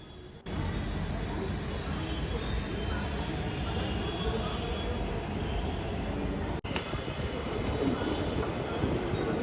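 Steady rumble and rolling noise inside a moving Hyderabad metro train, continuous and fairly loud throughout, with a brief dip near the end and faint high tones above the din.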